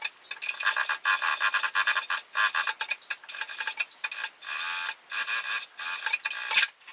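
A sewing machine stitching lining into a fabric shoulder bag runs in close, loud, buzzing bursts separated by short pauses, with no talking.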